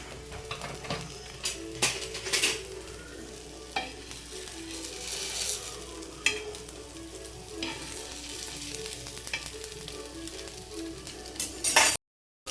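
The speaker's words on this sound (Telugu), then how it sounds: "సో ఇలా మంచిగా పాన్ మీద మనం ఫ్రై చేసేసుకోవాలి" Hara bara paneer kebabs fry in ghee or oil on a pan with a steady soft sizzle, broken by frequent clinks and scrapes of a utensil turning them, close and without talking.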